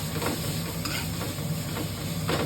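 Nasi goreng stir-fried in a wok over a high flame: a steady loud sizzle with scraping stirs and occasional sharper clatters, no voices.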